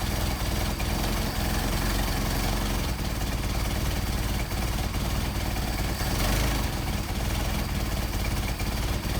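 A carburetted engine idles with a steady, even low rumble that runs unbroken throughout, close by and fairly loud.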